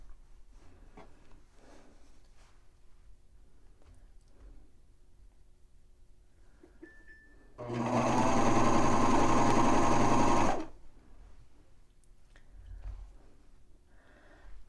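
A serger sews a banded neckline on a T-shirt, running in one steady, loud whirring burst of about three seconds midway, with quiet handling sounds before and after.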